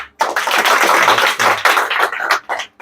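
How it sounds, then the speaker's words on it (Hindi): Students in a classroom applaud loudly, a dense burst of clapping that starts abruptly, holds strong for about two seconds, then breaks into a few scattered trailing claps. "सही है, जोरदार ताली।"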